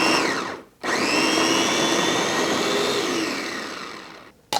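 Onion being chopped in an electric blender for Persian shrimp cutlets, a loud close whirring motor run that starts abruptly, holds steady with a slight pitch drift, then winds down before a brief restart.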